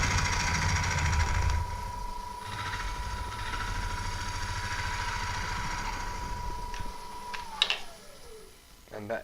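A wood-turning gouge chatters against denser wood on a lathe, a continuous rapid rattling over a steady motor hum that drops away near the end.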